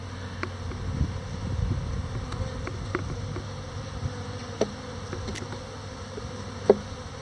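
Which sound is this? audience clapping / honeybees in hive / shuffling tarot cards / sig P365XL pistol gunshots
honeybees in hive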